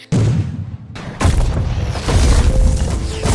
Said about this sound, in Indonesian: Dentuman meriam mencoba memprovokasi para samurai.